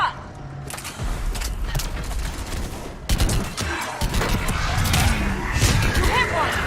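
Gunfire in the video game Mass Effect 3: dense, rapid bursts of shots rattling close and loud in a fusillade, with a sharp cut partway through and voices calling out over the shooting.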